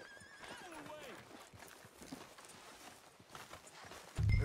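Horse in Red Dead Redemption 2 giving a whinny over steady clip-clopping hooves, heard under game music and ambience with a heavier thump at the end; people talk during it.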